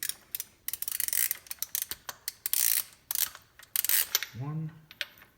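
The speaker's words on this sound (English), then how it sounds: "you're going to grab your ratchet and your socket, push her down there into the spark plug cylinder" A ratchet and socket loosen a spark plug on a 1997–2001 Honda CR-V with a B20 B-series engine, giving quick bursts of close, loud clicking strokes that then stop.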